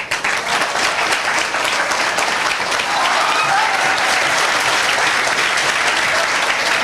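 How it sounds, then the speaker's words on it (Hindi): Sustained audience applause fills the whole stretch, dense and steady, with clapping swelling slightly louder midway and continuing without pause. "तुम लोग बार बार ताली काहे बजा रहे हो"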